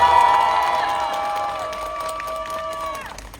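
A large crowd at an outdoor political rally in Gwangju, South Korea cheers and shouts together with scattered clapping, loud and close, the voices sliding down and dying away after about three seconds.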